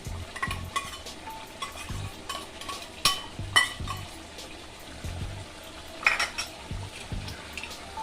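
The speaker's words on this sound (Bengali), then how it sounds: "আমি এর মধ্যে এবার দিয়ে দিচ্ছি ভেজে রাখা পেঁয়াজ" Fried onions tipped into a pan of chicken bhuna masala, giving a low sizzle with stirring and scraping of a utensil against the pan, plus a few light clinks, steady and close.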